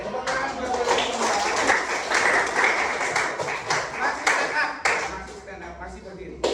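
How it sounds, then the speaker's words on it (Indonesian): A junior high school class claps for classmates, crisp rhythmic hand claps from a roomful of students that rise and fall, with voices mixing in around them. "tepuk tangan buat teman-teman"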